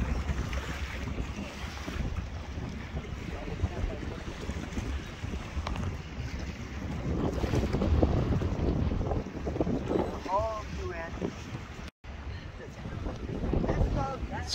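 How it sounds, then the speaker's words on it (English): Strong wind buffeting the microphone aboard a boat on the water near New York City, a loud, constant rushing roar with waves and engine rumble beneath, while someone talks over it. "Windy too today."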